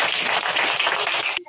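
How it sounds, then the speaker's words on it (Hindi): A short, dense burst of clapping from a crowd of children at a school commemoration event in India, then it cuts off abruptly. "जोरदार तालियां बजाओ बच्चों"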